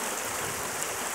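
Upstream river water at Kali Cokel, a beautiful riverside spot, rushes steadily in a dense, continuous hiss of flowing water, close and unbroken, with no voices.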